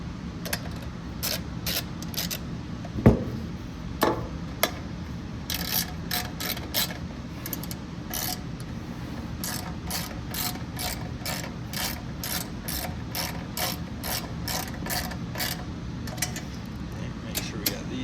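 A ratchet clicks in short bursts while bolts are tightened on a Briggs & Stratton 130G32 blower housing, close and fairly quiet, with a sharper knock near the start.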